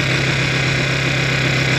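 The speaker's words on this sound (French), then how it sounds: "Petit moteur 4 temps." Small Honda four-stroke engine idling and warming up after the choke is pushed off, a loud, steady low hum with constant vibration and no voices.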